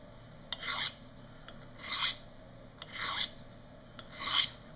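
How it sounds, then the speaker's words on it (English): A paring knife is drawn across a plain honer in four slow, even strokes. Each stroke makes a soft, close metallic rasp, with faint taps and quiet pauses between strokes. "I need to sharpen the paring knife"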